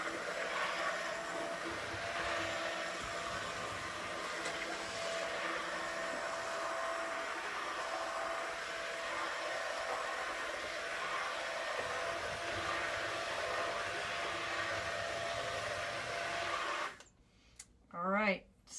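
A blender purees lentil and vegetable soup in a continuous loud, even whir that runs for most of the clip, then cuts off abruptly, followed by a brief bit of someone speaking.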